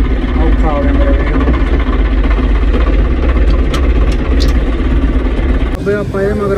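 A tractor engine runs at a steady, loud idle close by, a continuous low rumble that holds throughout, with a brief shift in tone near the end.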